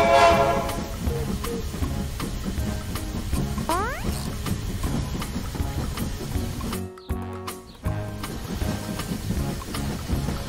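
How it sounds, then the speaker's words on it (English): A cartoon train approaches in a children's song, heard as a rumbling train mixed with music and a brief sliding whistle-like tone, with a short sudden break before the rumble continues. "Mr. Train is almost here."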